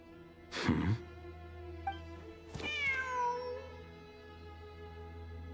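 A cat in the video game Genshin Impact meows twice, close and clear: a short first call, then a longer, drawn-out meow with a falling tail, over a soft, steady game background hum.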